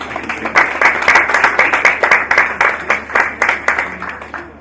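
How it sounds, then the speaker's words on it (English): Crowd applause at the NSE 2019 X-Kathon event, loud and close, with many hands clapping in a lively, slightly pulsing rhythm that stays strong and carries no talk. "I think we deserve another round of applause."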